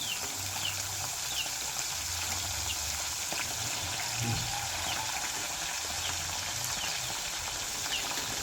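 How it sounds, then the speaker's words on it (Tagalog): Dried fish (tuyo) frying in a pan, a steady close hiss and sizzle with faint crackles running throughout, low and even in level, with no speech. "magprito na tayo ng tuyo yan"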